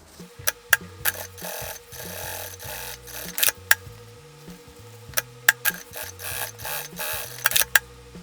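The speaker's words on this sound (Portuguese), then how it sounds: "vou fazer um pesponto aqui bem na borda" Sewing machine topstitching close to the edge of a large fabric toiletry bag, a steady mechanical stitching hum broken into short runs and pauses with sharp clicks, close and alone.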